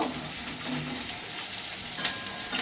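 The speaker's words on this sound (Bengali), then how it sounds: "একটু লাল লাল করে ভেজে নেব" Chopped onions frying in oil with cumin in a pan for a spiced okra dish, giving a steady, close, bright sizzle that holds evenly throughout with no talk.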